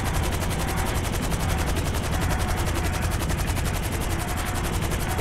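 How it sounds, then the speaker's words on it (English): A damaged helicopter in Grand Theft Auto 5 gives a steady, loud, rapid chopping rattle that runs without a break, dense and harsh throughout. "Listen to this helicopter. It's making noises that it probably shouldn't."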